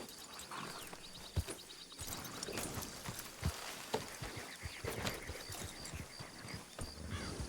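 Horse hooves clip-clop in a video game, an uneven run of sharp knocks and thuds over a busy ambient bed of wind and rustling, close and fairly loud, with no voices.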